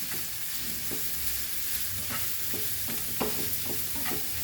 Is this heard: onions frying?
yes